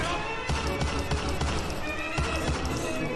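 Rapid gunfire from the video game TimeOut crackles in a dense, continuous volley of repeated shots at fairly loud level, with a few heavier thumps punctuating the stream.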